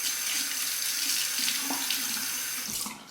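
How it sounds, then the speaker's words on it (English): Tap water runs steadily into a sink as a razor is rinsed during a wet shave, a close, continuous splashing hiss that tapers off at the end. "Rinse."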